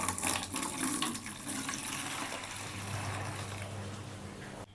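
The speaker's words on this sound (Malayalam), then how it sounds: "അടുത്ത 1 ലിറ്റർ വെള്ളം കൂടെ നമ്മൾ ഒഴിച്ചു കൊടുത്തു" Water poured into a bucket that already holds baking soda powder, a steady close gushing splash that holds for several seconds and then stops abruptly, with no talking.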